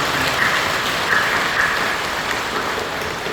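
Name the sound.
church congregation applauding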